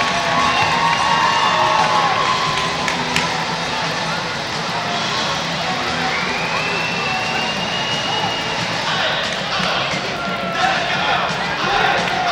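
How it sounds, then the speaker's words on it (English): Loud, continuous crowd roar at a minor-league hockey game during a shootout between the Dayton Demonz and Watertown Privateers, filling the arena with dense cheering and rising swells, with an announcer's voice over it. "This crowd is loud."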